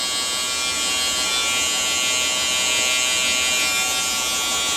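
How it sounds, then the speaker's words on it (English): Cordless electric hair clippers buzzing steadily at close range during a hair trim, a constant high whine with no speech. "These are good clippers too."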